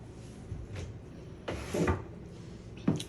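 A laundry room door, painted and fitted with hinges during a DIY makeover, is handled quietly up close, with a few soft wooden knocks, bumps and rubbing sounds at irregular intervals.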